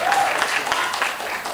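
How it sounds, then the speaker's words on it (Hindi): Loud audience applause at a Hindi film trailer launch event, a dense continuous wash of clapping filling the hall throughout, with no pauses. "वो नीति प्रीति के लिए जोरदार तालियां प्लीज।"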